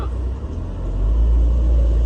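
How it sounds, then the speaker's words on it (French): A Mercedes-Benz 300 SL engine and exhaust rumble steadily nearby, a low continuous drone that swells slightly louder halfway through, with no talk over it. "il y a une voiture, elle fait un bruit"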